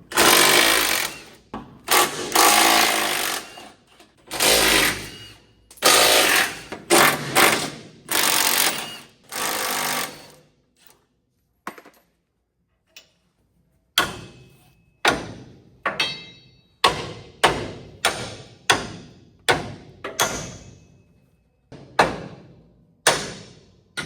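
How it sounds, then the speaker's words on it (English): Removing the torsion bars from a Duramax truck during a solid axle swap produces loud bursts of impact-wrench hammering, long rattling runs at first, then a series of short sharp rattles with gaps between, close by and without talk. "we're just going to unbolt them and pull them all the way out"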